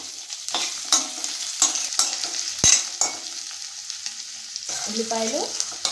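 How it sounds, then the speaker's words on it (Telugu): Garlic cloves frying in oil in a pan alongside cumin, with a steady crackling sizzle, several scraping stirs of a utensil against the pan and a brief tonal squeak near the end, with no voices. "వెల్లుల్లి దూరగా వేయించుకోవాలండి"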